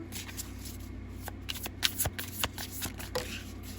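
Tarot cards are shuffled by hand up close, a quick run of riffling snaps and soft slides, with no talk over them.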